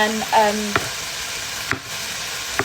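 Mushrooms and onions frying in a pan for chicken in white wine, a soft steady sizzle with a few light clicks of stirring, close and moderately quiet with no talking.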